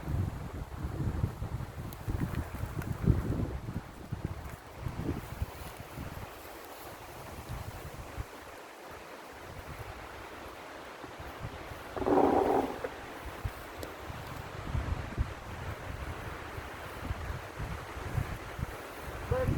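Gusty wind buffets and roars across the microphone in uneven waves, with a watery, outdoor rumble and a brief brighter burst midway.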